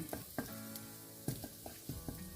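Garlic sizzles in a pan with chili sauce for shrimp fried rice, a steady frying hiss broken by several soft clinks and stirs of a utensil, close and fairly quiet, with no talking.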